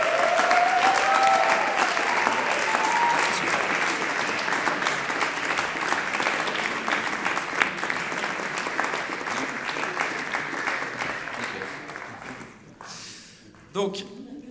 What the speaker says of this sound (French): pour qu'on les applaudisse très fort